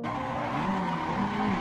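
Racing car from a racing video game, engine held at high revs while its tires skid and squeal, a steady loud continuous whine with shifting pitch and no talk.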